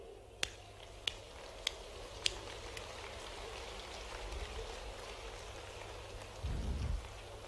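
A standing crowd applauds at a Madhya Pradesh Chief Minister Mohan Yadav event for farmers in Bhind: a dense, steady wash of clapping with a few sharp, separate claps early on and a low rumble swelling near the end.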